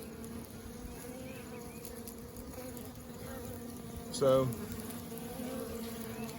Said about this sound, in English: They're pretty little bees. Seem to be pretty healthy bees.